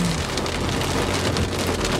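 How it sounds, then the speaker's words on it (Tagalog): Heavy rain pours down on surfaces outdoors after a hot, sunny spell, a dense and loud steady wash of drops that fills the whole span with no pauses. "Hala, palakas yung ulan."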